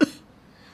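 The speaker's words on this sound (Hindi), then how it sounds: "आपको बड़ी खांसी आ रही है।" A single short, sharp cough, close by, followed by quiet room tone.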